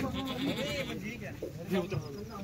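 Kathiawadi goats bleat in wavering cries while being unloaded from a truck, several calls overlapping close by amid people talking.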